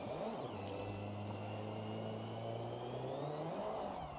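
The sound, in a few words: inline-six car engine revving in video game Forza Horizon 6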